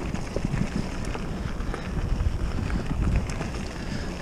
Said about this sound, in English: It's very, very blustery.